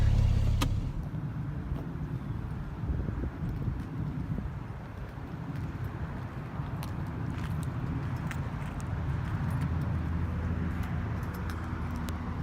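A 2014 Porsche 911 Carrera S Convertible rolls along the road, a steady broadband rumble of engine and tire noise holding fairly even throughout, with a few brief clicks on top.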